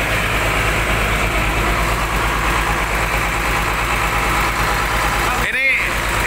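A rebuilt bus engine idles with a steady low rumble, its pistons, bore, valves and other internals all replaced. The hum runs evenly and close throughout, with a brief sharp disturbance near the end.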